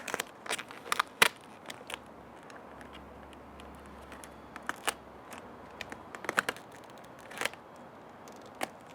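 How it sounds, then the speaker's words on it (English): Excess white vinyl wrap film is trimmed on a Tesla Model 3 carbon spoiler, giving scattered sharp snips and crackles spread across the clip, fairly faint and with no talking. "So I'm gonna just cut some of the extra film here to release some unwanted or unneeded tension."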